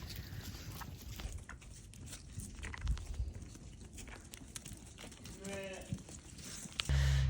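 Sheep on a farm, brought in through a double gate, give a faint bleat amid a busy outdoor background of rustling, shuffling hooves and wind, with a louder knock at the very end.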